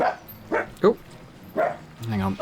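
A pet dog barks and yelps in several short bursts, fairly close and loud, interleaved with a man's brief spoken interjection in a home setting.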